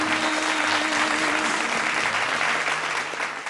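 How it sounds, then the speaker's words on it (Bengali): Loud, sustained applause from a studio audience on a Bengali family game show rolls on evenly from start to finish, a steady wash of many hands clapping together. "জোরে হাততালি হয়ে যাক"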